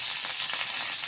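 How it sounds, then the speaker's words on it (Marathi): Curry leaves crackle and sizzle in hot oil for a tadka, a dense, steady spitting hiss that stays loud and close for the whole moment, with no voices. "आता मी याला तडका पण देणार आहे। हे कढीपत्त्याचे पानं आहे,"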